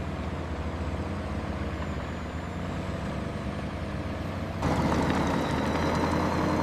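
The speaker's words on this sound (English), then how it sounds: "Truck after truck, a continuous convoy to the coast." Heavy trucks in a continuous convoy haul excavated sand from a tower construction site toward the coast, a steady low engine rumble and drone that jumps louder and brighter near the end as a closer truck passes.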